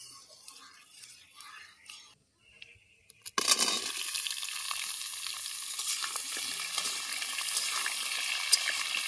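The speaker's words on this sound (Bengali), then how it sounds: "ফোড়নটা একটু ভাজা ভাজা হয়ে এলে এর মধ্যে দিয়ে দেবো কেটে রাখা আম" Panch phoron spices hit hot oil for a raw mango pickle, a sudden loud sizzle after a few quiet seconds that then keeps hissing and crackling steadily.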